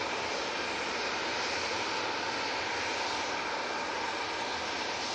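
A TUI Boeing 737 jet taxis onto the runway at Manchester Airport ahead of a flight to Malaga, giving a steady, loud engine roar that holds without letup and with no talk.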